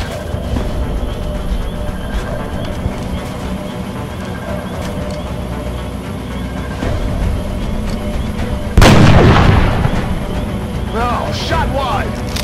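Gunfire and explosions in the tactical video game XCOM, a busy run of battle sounds with a loud blast burst near the end, mixed under game voice lines.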